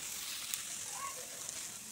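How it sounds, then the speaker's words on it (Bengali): Soybean chunks fry in oil over a home cooking fire, giving a soft, steady sizzle with faint pops, close and quiet, with no talking. "এখন যে করবো সয়াবিন ভাজতেছি"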